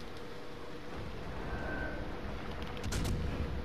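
Naval gunfire of AP shells from a New Orleans cruiser in World of Warships Legends, heavy booming blasts over a constant low rumble, with a louder burst near the end.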